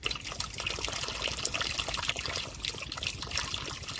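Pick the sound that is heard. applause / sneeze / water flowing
water flowing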